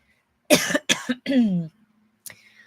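A person coughs a couple of sharp times, then gives a longer rasping throat-clearing cough, followed by a faint sniff.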